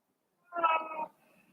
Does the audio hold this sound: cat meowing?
yes